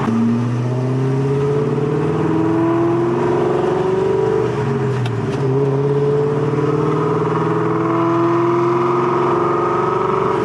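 A car fitted with Stage 3 Comp Cams revs steadily while driving, its loud, continuous engine note rising and falling through the gears with no talking.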